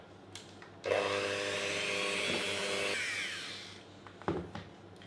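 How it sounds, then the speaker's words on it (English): Electric hand beaters whir through cheesecake batter with egg and plain flour, a steady high motor drone with a scraping, rattling edge that runs for about two seconds and then winds down, followed by a few light clinks. "I'm going to get the beaters on it again just until that's nicely mixed through"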